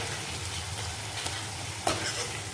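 Tomatoes cooking down for rajma in a hot pan, a continuous close sizzle and frying hiss with a couple of sharp pops and stirring clicks.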